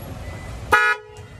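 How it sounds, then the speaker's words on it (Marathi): A 2022 Maruti Suzuki Celerio CNG with a modified horn relay gives one short, loud, close honk about a quarter second long. It cuts through low background rumble and leaves a brief fading tail. "तर बघू शकतात की हॉर्न वाजून दाखवत आता"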